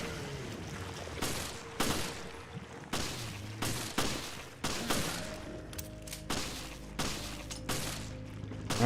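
Rapid bursts of gunfire from the video game Resident Evil Revelations, loud and close, coming in repeated volleys with brief pauses between them over a low background score.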